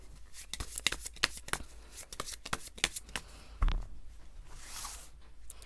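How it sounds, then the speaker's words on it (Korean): Tarot cards being shuffled and drawn, close rapid riffling and flicking in quick bursts, followed by a soft thump and lighter sliding of cards toward the end. "자, 그렇다면 이 사람 언제 만나는지 카드 뽑아보겠습니다"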